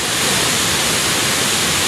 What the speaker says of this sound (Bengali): ওভার টিউবের ভিতর থেকে পানি পড়তেছে